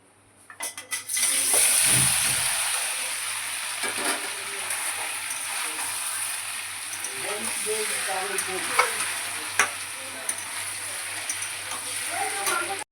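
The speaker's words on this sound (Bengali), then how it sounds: "প্রথমে আমি পনিরটা ভেজে নিচ্ছি।" Paneer sizzling loudly in hot oil after a few clattering knocks, the frying continuing steadily with occasional spatters and utensil taps.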